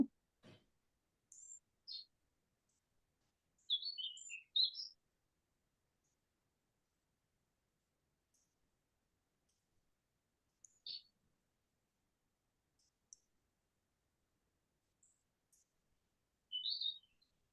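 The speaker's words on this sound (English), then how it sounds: "Somebody's out near the birds." Sparse, faint bird chirps drift in from outside near a lakeside porch, a few short calls in brief clusters separated by long quiet gaps.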